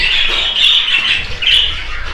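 Cockatiels give shrill, piercing squawks in two sustained bursts, close and loud over a quiet background.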